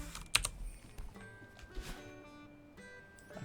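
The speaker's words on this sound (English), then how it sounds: "I pressed number keys somewhere." Computer keyboard number keys pressed during a game stream: a few quick, sharp clicks near the start, then scattered lighter taps over quiet game sound.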